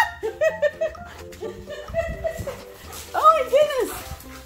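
A dog whimpers and yips in short excited bursts close by, mixed with a person's cooing talk and light laughter outdoors on a cold morning.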